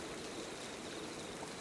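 Rain pours in a continuous broadband hiss, very faint and even throughout, with no voices.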